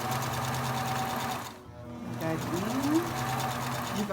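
Sewing machine stitching a backstitch exercise, a steady mechanical whir that halts briefly mid-clip, then restarts with rising motor tones as the machine reverses and carries on.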